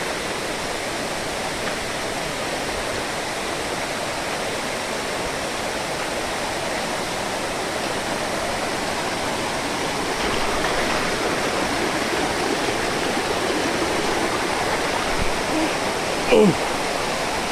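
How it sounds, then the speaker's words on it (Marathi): Steady, dense rush of a hidden waterfall near Panval, Ratnagiri, reached through a river, a constant broad roar that fills the whole stretch with no pauses. "किती सुंदर आहे बघा धबधबा आहे"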